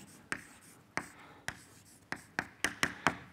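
Chalk tapping out an equation on a lecture-hall board, with sharp, distinct strokes spaced about half a second apart at first and then bunching into a faster cluster toward the end, close and clear over a quiet room.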